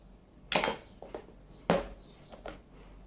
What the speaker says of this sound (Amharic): አንድ ማንኪያ ወስዳለሁ ከዚህ።